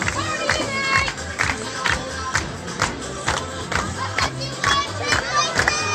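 A baseball crowd in the home cheering section erupts after an insurance run at an Elite World Series game, with sustained loud cheering, shouting and clapping that swells in waves, while announcer speech runs underneath.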